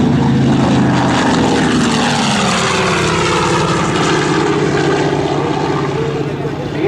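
Grumman TBM Avenger, a WWII torpedo bomber with a single propeller engine, flying a demonstration at an airshow; a loud, continuous propeller drone with a shifting pitch sustains throughout and fades slightly near the end.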